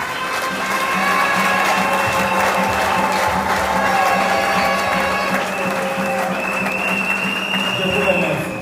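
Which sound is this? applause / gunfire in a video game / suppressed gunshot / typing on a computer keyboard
applause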